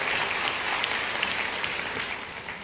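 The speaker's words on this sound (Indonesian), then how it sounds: "Ya, kasih tepuk tangan untuk semuanya." A congregation at a Christian morning devotion applauds in a dense, steady wash of many hands clapping together. The sound is sustained and even throughout, with no talking over it.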